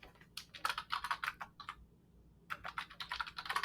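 Quick keystrokes on a computer keyboard come in two close, clattering bursts split by a brief pause, with no voices.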